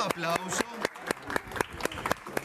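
Studio audience applause on a live news programme set, heard as sparse, sharp claps in a loose rhythm beneath overlapping talk and laughter from the presenters.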